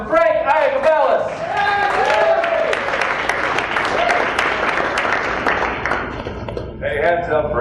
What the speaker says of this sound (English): Make some noise for Frank Iacobellis.